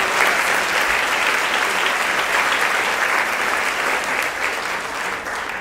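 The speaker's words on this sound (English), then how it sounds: "give a round of applause" A roomful of guests at an awards event breaks into sustained applause, a thick, even roar of clapping that holds loud and steady for several seconds with no talk over it.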